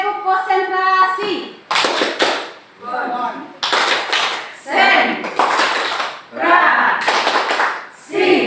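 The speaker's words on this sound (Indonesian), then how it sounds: "Tepuk konsentrasi" A class of children does the 'tepuk konsentrasi' concentration clap: clustered, crisp bursts of hand claps in a regular pattern, interleaved with chanted group voices.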